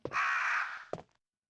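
A single harsh crow caw from the video game Resident Evil 1, close and loud, followed by a short thud before silence.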